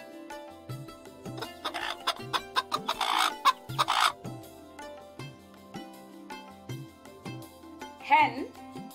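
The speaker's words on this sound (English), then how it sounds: "Hen" A hen clucks in short bursts against a steady musical backing, with a brief livelier squawk near the end.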